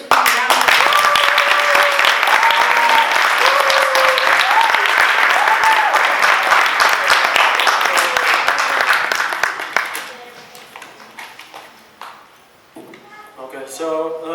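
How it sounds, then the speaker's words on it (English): A large crowd at a school commencement ceremony claps steadily for several seconds, loud and dense, before the applause fades out, leaving a few faint scattered sounds. "Let's give him a round of applause."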